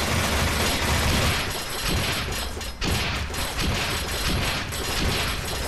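Dense, continuous gunfire and explosive bursts from the first-person shooter NecroVisioN fill the scene, loud and relentless with a brief dip midway.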